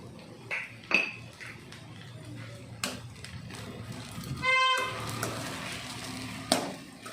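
Flattened rice being mixed with salt in a pan for poha upma, quiet scraping and clinking of a spoon against the metal pan at irregular intervals, with a brief ringing clink midway.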